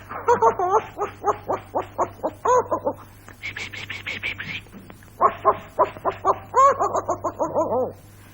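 A person's voice mimics a dog's barking with rapid, rhythmic woofs and yips, loud and close, in several quick bursts with a brief higher-pitched stretch.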